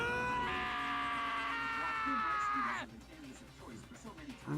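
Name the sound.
scream in the video game Danganronpa: Trigger Happy Havoc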